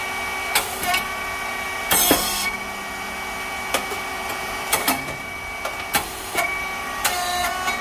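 A rice cake machine, model SYP4506 with coated moulds, runs steadily with motor, pump and fan humming while sharp mechanical clacks and hissing bursts recur every second or so, close and fairly loud.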